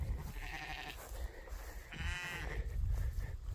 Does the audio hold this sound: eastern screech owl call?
no